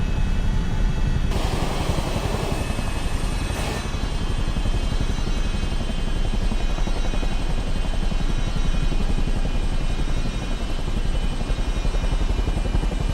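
Helicopter engine and rotor in Microsoft Flight Simulator, a loud, steady droning whine with rapid rotor chop that holds constant, close and unbroken, with no speech.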